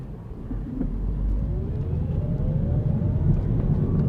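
A 2019 Kia Niro EV accelerating, its electric motor giving a soft rising whine over steady low road and cabin rumble, close and continuous.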